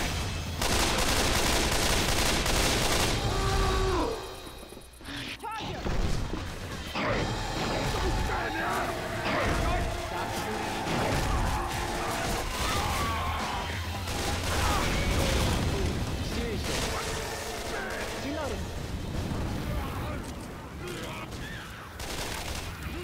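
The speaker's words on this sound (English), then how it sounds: "Shoot that zombie." Left 4 Dead 2 gunfire against zombies in survival versus mode keeps up loud, nearly continuous rapid shooting with booms and crashes, a short lull around five seconds, and players talking over the din.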